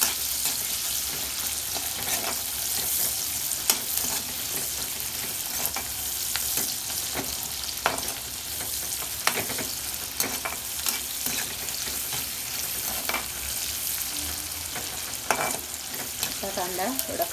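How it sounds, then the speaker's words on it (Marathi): Onion frying in a pan for a homestyle bhindi batata bhaji, with a steady loud sizzle throughout and occasional scrapes and clinks as it is stirred. "कांदा चांगला फ्राय झाला की एकदम फ्राय करून घ्यायचा कांदा."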